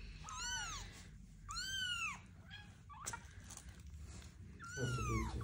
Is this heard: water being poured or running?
no